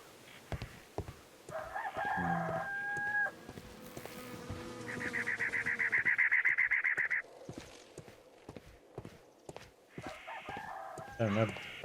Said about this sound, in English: that bird noise right in my left ear